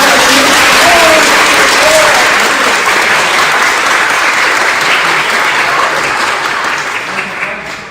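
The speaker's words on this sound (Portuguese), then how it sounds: "Uma salva de palmas!" A large crowd claps loudly in continuous applause, a thick wash of hand claps that starts at full strength and slowly fades toward the end, with a few voices briefly audible early on.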